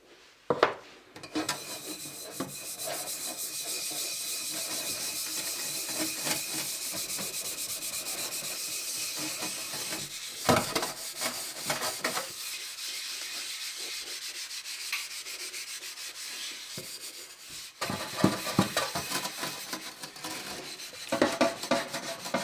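A scouring pad with The Pink Stuff paste scrubs the back of a pot in a long, steady rasping rub, broken by a few short pauses and clattering handling noises.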